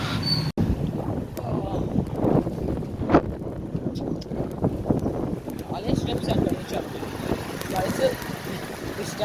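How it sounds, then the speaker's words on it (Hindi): Strong wind buffets the microphone while someone cycles outdoors, making a constant rough, gusty rumble with low thumps throughout. A voice talks over it in places. "इतनी कोई तेज़ शदीद हवा चल रही है ना इस टाइम, साइकिल जो हमसे नहीं चल रही।"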